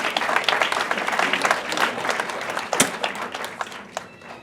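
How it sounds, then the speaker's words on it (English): An audience applauds continuously at a moderate distance, a dense patter of many hands with a few sharper claps standing out, fading slightly toward the end. "Please give Jeff a round of applause."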